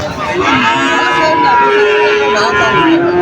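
Cattle and calves moo loudly and close by at a cattle market, long drawn-out lowing calls overlapping one another with faint voices in the background.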